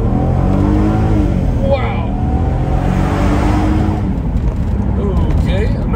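A 2004 Audi TT Quattro roadster with a 3.2 VR6 engine pulls hard at full throttle, its loud, rising engine note heard from the cabin, with a voice speaking briefly over it.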